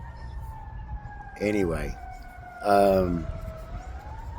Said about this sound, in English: there goes that ambulance again